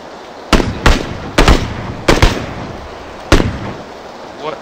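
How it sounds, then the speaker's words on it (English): Gunfire in the battle-royale game PUBG: about seven sharp, loud shots crack out in irregular single and paired bursts, with no talking over them. "Is that you shooting?"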